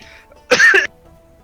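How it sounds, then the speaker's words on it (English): A single hard, harsh cough bursts out close to the mic, loud and abrupt, with quiet before and after. "He coughed so hard his damn mic turned off."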